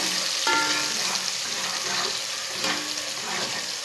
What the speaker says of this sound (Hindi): 1 बरीक कटा हुआ प्याज डाल लेंगे। प्याज को ना हल्का सा ब्राउन कर लेंगे।